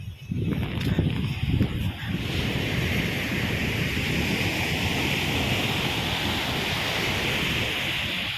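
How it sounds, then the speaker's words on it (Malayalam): Steady wind rushes over a broad roar of surf at a beach in Kochi, with a few gusty bumps at the start before it settles into a constant wash. "തണുപ്പിക്കുന്ന നല്ല കാറ്റും ഉണ്ട്"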